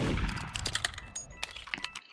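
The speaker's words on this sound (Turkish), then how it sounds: "Aa silah sesi geldi." Gunshots in a Roblox video game, a quick scatter of sharp cracks and thuds in rapid succession over about two seconds, fairly loud against game noise.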